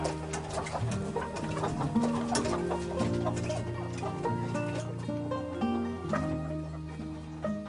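Domestic hens clucking as they settle in to roost, a dense layered chorus of many birds close by, steady and continuous with overlapping calls and no talk.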